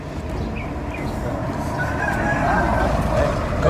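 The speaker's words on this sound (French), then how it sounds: "Donc là, il y a des coqs de combat." Fighting roosters and hens cluck and crow steadily outdoors on the way to Rawai, Thailand, forming a dense, constant farmyard din with occasional louder calls.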